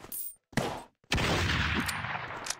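Gunshots in the Roblox game Mad Murderer: two sharp close shots, then a louder blast with a sustained rattling burst that fades over about a second and a half, with no voices.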